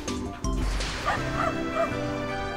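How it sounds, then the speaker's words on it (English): A dog gives a couple of sharp yipping barks, followed by a run of high, whining whimpers at moderate distance. "Whose dog is that? What the dog doing?"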